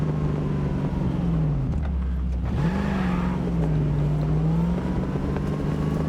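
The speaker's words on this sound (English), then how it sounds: "Love the sound of this car." A car engine in the video game Cyberpunk 2077 drones steadily, dipping and then climbing in pitch as it revs, a continuous moderate hum with no talk.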